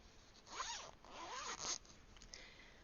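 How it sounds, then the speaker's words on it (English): Standard zip on a vinyl-front project bag printed with Christmas gnomes being pulled open in a few quick rasping strokes, close and fairly soft, with a short pause between pulls. "And just standard zip."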